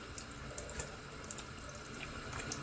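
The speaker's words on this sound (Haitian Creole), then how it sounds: "Je vais le rincer avec un petit de l'eau." Tap water runs and splashes as a face is rinsed, a soft, steady flow with small irregular drips and splatters close by.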